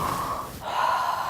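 During a vocal relaxation exercise, a person draws one deep, audible breath close to the microphone, a breathy in-and-out with a soft, slightly wheezy hiss lasting about a second.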